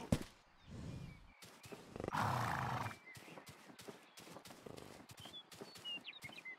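A horse in the video game Rustler lets out one loud, strained neigh partway through, surrounded by sharp clicking, clopping and other game sound effects, with no talking.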